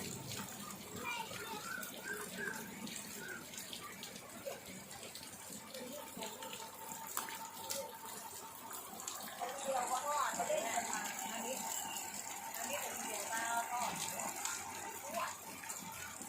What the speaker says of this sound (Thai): นี่นะครับน้ำตกออกมา